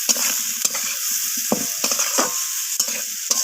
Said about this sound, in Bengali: তো বেগুনটাকে দিয়ে আলুর সাথে আমি কষিয়ে নিচ্ছি।